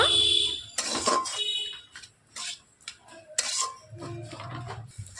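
Onion kachori filling with chopped coriander being stirred in a pan, with scraping and clinking of a utensil against metal coming in irregular bursts, plus some high ringing tones.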